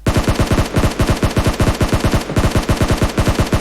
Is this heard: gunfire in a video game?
yes